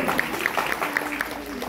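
An audience at a stage ceremony claps in a brief, dense burst of applause, with a voice audible over it.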